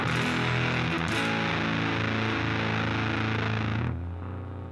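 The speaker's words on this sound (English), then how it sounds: "distortion's all the way up at around 5 o'clock" An electric guitar runs through a distortion pedal cranked to maximum in vintage mode, sounding a thick, saturated sustained chord that rings loudly for several seconds before dropping away; no voices.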